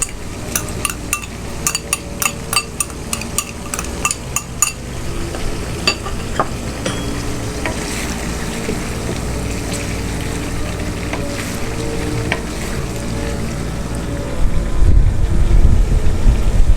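Chicken for an aloo gobi chicken dish sizzles steadily in a pan as garlic ginger paste goes in. A spatula clicks and scrapes in a quick rhythm at first, and the frying carries on loud and close.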